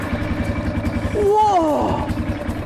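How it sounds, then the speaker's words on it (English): A motorcycle engine fires up after a push of the start button, a rising rev swelling out of steady engine chatter with exhaust roar from the muffler, close and loud under an excited voice. "A lot of the sound of the motorcycle comes from the muffler, and the muffler is where all of the exhaust comes from."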